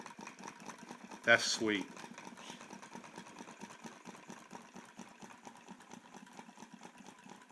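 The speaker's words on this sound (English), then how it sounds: "Two Stirling engines, Dueling engines." Two small Stirling engines turn at roughly 140 to 150 RPM, giving a faint, steady, fast mechanical ticking throughout, with one brief spoken remark early on.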